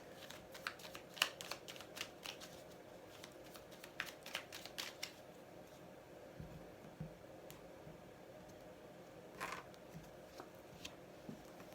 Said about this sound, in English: I like to give them a little bit more of a shuffle